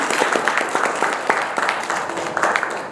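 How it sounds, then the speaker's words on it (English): Audience at a university council induction event in Mombasa clapping together, a steady dense patter of hand claps filling the short stretch at moderate volume. "Let's clap for a VC,"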